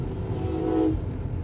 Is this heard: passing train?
yes